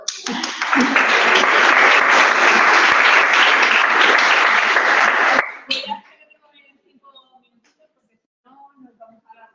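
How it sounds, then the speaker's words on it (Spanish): An audience bursts into loud, dense applause that holds steady for about five seconds, then stops abruptly, leaving a few scattered claps and faint movement in a quiet room. "Aplauso."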